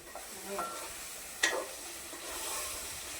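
Food sizzles steadily in a pan, with a brief clink of a utensil against metal partway through as it is stirred.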